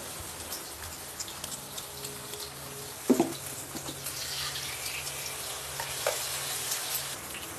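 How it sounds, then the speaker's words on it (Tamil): Fish frying in well-heated oil, a steady soft sizzle and crackle throughout, with a louder pop and spatter near the middle and a few more spits later, recorded close up without talk. "எண்ணெய் நல்லா சூடாயிடுச்சு. இப்போ நம்ம மீனை போட்டுக்கலாம்."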